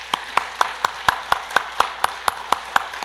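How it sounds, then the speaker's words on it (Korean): At a Korean church Sunday service, a congregation claps in rhythm, sharp regular beats about four per second, moderately close and steady with a quiet room between claps. "우리 박수 한번 보내주십시다."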